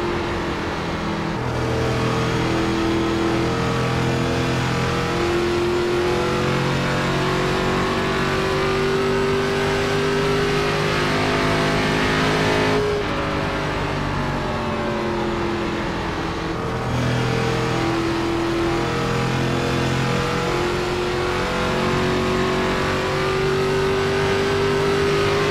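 Race car engines in iRacing roar continuously at high revs, the pitch climbing through gears and dropping briefly on shifts, loud and steady throughout with no pause.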